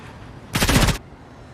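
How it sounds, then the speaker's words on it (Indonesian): A security guard is shot in a film, heard as one loud, close gunshot burst lasting about half a second, sharp and crackling against a quiet background. "seketika si satpam pun ditembak oleh si Ica"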